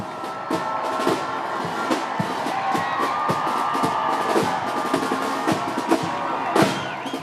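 A large crowd cheering and shouting at the Lionesses' Euros-win open-top bus parade, a steady roar with scattered claps and whistles, heard from within the throng.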